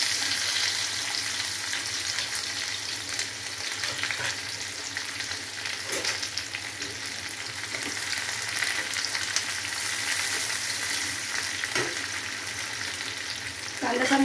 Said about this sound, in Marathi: कांदा चांगला लाल होईपर्यंत आपल्याला तळायचे